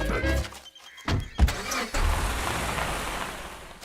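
A car engine starts and the vehicle pulls out, with a few sharp clunks and a door-like thump before a steady, rising engine hum takes over and fades slightly as it moves off.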